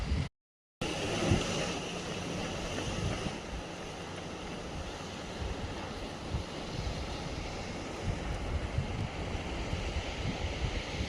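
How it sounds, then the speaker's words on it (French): Sea waves breaking and surging at Pointe Saint-Mathieu on the Brittany coast, a steady broad roar with wind buffeting the microphone, continuous and fairly loud after a brief dropout at the start. "On entend le bruit des vagues."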